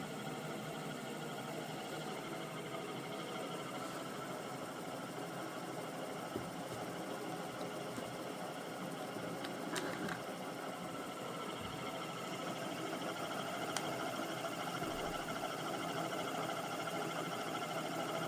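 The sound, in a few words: pulse motor generator running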